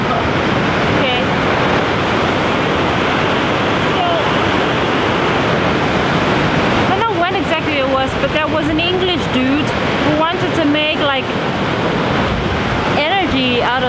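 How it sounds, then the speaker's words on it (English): Constant roar of rushing water fills the scene, loud and close, with people talking over it in the second half. "this amazing waterfall"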